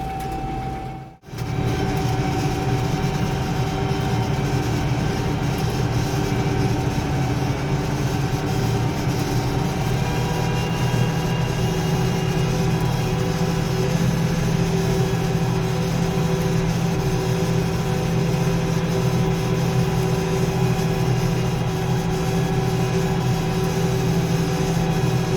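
Tractor pulling a Buffalo cultivator through organic soybean rows, a steady, loud, low engine drone with mechanical rumble running throughout after a brief dip at the start.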